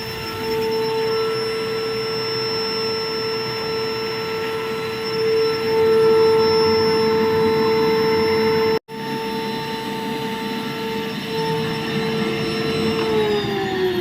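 A Rainbow SRX vacuum cleaner runs steadily on an air conditioning unit, drawing water and dirt from the aircon system; a loud, constant motor whine holds throughout with one very brief dropout near the end.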